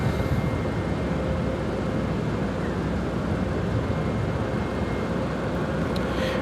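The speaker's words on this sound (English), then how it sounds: "This arrival is American Airlines Flight 91 coming in from London Heathrow on the 787-9 Dreamliner." An American Airlines Boeing 787-9 Dreamliner arrives at Chicago O'Hare from London Heathrow as a continuous, even jet rumble with a faint steady whine. The sound stays moderately loud throughout with no talking.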